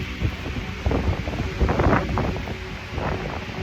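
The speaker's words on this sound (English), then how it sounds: "70-mile-per-hour winds today." Strong 70 mph wind roaring and buffeting outdoors in the dark around a DIY container house, a dense continuous rush with gusty surges and no voices.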